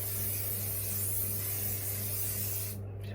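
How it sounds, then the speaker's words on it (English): Cheap Kohl's hairspray hisses from an aerosol can in one continuous close spray lasting nearly three seconds, soft and steady, then cuts off abruptly. "Spray it again. This is just like the Kohl's hairspray"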